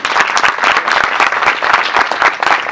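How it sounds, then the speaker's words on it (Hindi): A congregation claps for a family during a church service, producing steady, loud, dense applause that fills the whole short stretch with overlapping hand claps and a light crowd murmur. "आइस खानदान के लिए तालियां बजाएंगे।"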